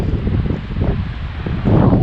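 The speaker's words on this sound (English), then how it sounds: "It's very, very windy, so you may not be able to hear me" Strong wind on a beach buffets the microphone with low, rumbling gusts that swell and ease, loudest toward the end, with no voices present.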